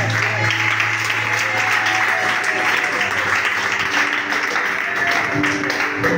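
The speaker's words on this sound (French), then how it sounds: "Est-ce que quelqu'un peut acclamer la parole du Seigneur?" A church congregation at an Easter service breaks into loud, continuous applause, steady and full throughout, with voices mixed in beneath.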